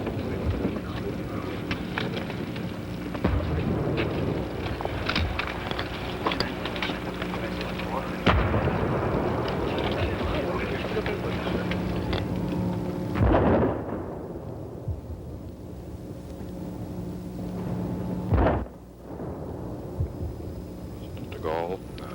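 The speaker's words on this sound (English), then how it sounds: "Soon the 21-gun salute." Cannon fire of the 21-gun salute at President John F. Kennedy's 1963 funeral booms in heavy, spaced reports over a crowded outdoor scene, with a narrator speaking throughout.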